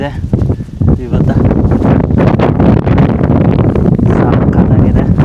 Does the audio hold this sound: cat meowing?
no